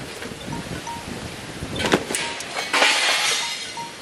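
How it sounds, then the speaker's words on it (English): Glass breaks while a trash pile is being picked through: two sharp crashes, one near the middle and one shortly after, each trailing into a brief rattle over low background noise. "Some glass just broke"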